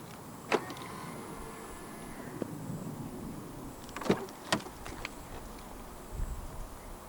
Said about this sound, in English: And to unlock the car, just press the button on any of the front door handles again.